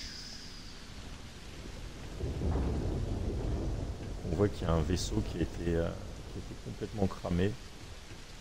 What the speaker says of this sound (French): Le bruit de la pluie est